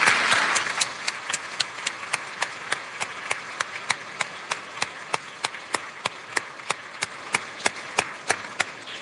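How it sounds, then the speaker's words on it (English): Applause from a debate audience for the chair, starting as a brief burst of clapping that thins into a steady, evenly spaced run of single claps lasting several seconds. "Why don't we give Sam a big round of applause as well for chairing the whole thing."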